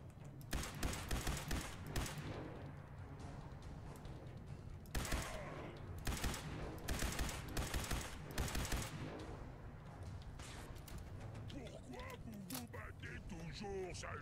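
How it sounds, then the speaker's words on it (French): Bursts of Fallout 4 gunfire from an enemy shooting through a wall, rapid cracking volleys in several clusters, with mechanical clatter and a voice speaking toward the end. "Lui, il me tire à travers un mur."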